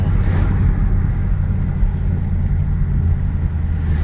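A Dodge Charger Hellcat driving on a road, heard from inside as a loud, steady low engine rumble with road roar and no pauses.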